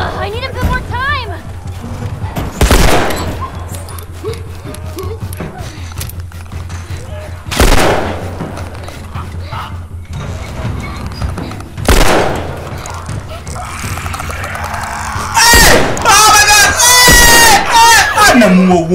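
Gunshots ring out in The Last of Us Remastered as several loud, sharp bursts arrive a few seconds apart over continuous game sound. Someone talks throughout.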